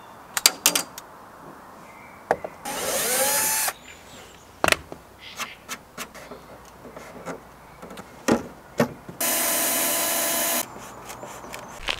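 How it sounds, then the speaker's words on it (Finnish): A power drill bores a screw hole into a fiberglass car bumper. Two loud, steady whirring bursts of about a second each are separated by clicks, knocks and handling noises. "Porataan sitten tonne kuituun itse se reikä, mistä tulee sitten se ruuvi."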